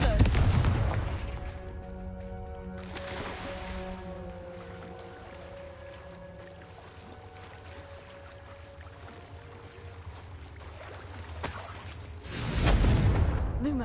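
Confringo blasting curse explosions in the Hogwarts Legacy video game: a loud burst at the start, a quieter stretch with tonal game sounds and ambience, then another strong blast near the end.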